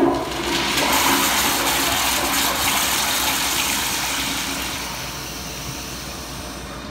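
A Kohler commercial toilet flushes with a loud, close rush of water that gushes strongly at first, then tapers into a softer swirling rinse of the bowl, heard alone.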